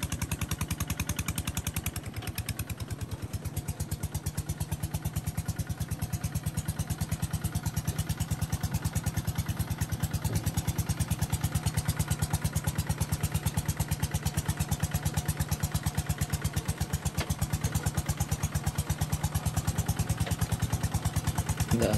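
Japanese walk-behind tractor engine in Vietnam, a steady fast-firing clatter that runs loud and close without pause, holding an even idle-to-mid throttle throughout.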